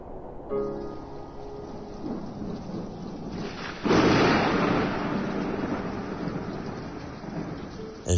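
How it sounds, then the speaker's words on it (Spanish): A thunder sound effect in a Spanish audiobook of a Lovecraft werewolf tale: steady rain hiss under a low, swelling rumble that breaks into a loud, sustained roll midway and lingers to the end. "El relámpago de un distante rayo iluminó el cielo, seguido de un ominoso retumbar"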